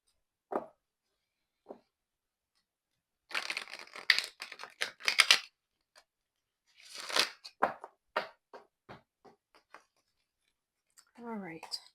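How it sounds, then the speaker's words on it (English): Playing or oracle cards being shuffled and handled, giving scattered papery slides, flicks and crinkly bursts in short irregular clusters with quiet gaps, close and fairly soft. "These cards are just slipping everywhere here today."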